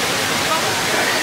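Steady, loud rushing of an artificial waterfall at Disney's Animal Kingdom in Florida, a dense broadband hiss with no pauses.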